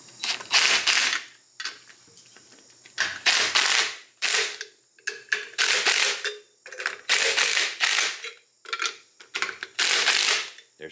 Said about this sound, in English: all you have to do is continue to tighten it. So you can do it with a wrench or you can do it with an impact.